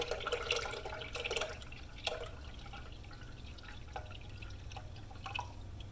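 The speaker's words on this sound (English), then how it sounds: "So I've got to put 4 cups of chicken broth into this Brunswick stew." Chicken broth is poured into a pot of Brunswick stew, giving fairly quiet, intermittent splashing and dripping in short bursts with no one talking.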